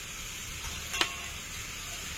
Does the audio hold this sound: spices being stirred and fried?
yes